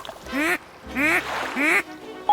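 Three nasal duck quacks sound close by, spaced about half a second apart, with quiet between them.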